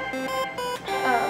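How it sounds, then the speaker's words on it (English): An electronic ringing tone with repeating melodic beeps sounds in the background while a person talks over it. "Sorry for the phone ringing in the background."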